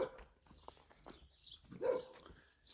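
Dogs bark at Duncliffe Woods on Duncliffe Hill in a few scattered, fairly distant yaps spread across a few seconds of outdoor ambience.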